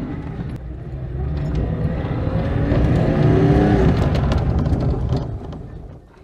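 An Oltcit car with a dragging handbrake pulls away, its engine rising to a loud strained drone before spluttering down and stopping, heard close by with no voices.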